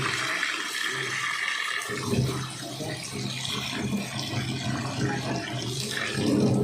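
Water rushes steadily from a tap while pork is rinsed clean, a loud, continuous splashing flow with no talk.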